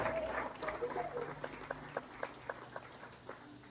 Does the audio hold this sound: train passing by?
no